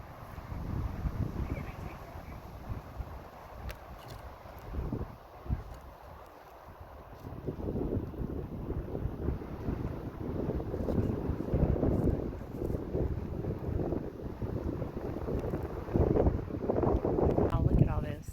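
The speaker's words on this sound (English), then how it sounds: "the wind is picking up again." Gusty wind at El Morro National Monument roars across the microphone, easing briefly then building again into a steady buffeting rush with no one talking.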